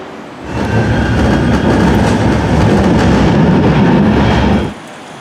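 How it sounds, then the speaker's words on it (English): A tram rolls into Langworthy tram stop beside Langworthy Road in Manchester, a loud sustained rumble of wheels and motors with rail clatter building and holding for several seconds before cutting off abruptly. "So let's see this tram arriving and take a journey on the tram."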